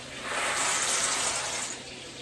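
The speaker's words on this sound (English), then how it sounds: "Let's dump them into the boiling water." A rush of water splashes steadily for about two seconds as macaroni is dumped into boiling water, swelling and then easing off, with no voices.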